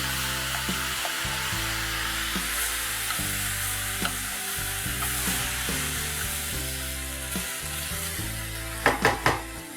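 Onions and tomatoes sizzle steadily in a little oil on a tawa, a continuous frying hiss with occasional stirring scrapes and a few sharp clinks near the end.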